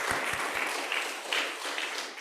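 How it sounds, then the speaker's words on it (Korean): A church congregation at a Korean Sunday worship service claps to welcome visitors, a short burst of moderate, even applause from the gathered crowd filling the room. "박수로 환영할까요?"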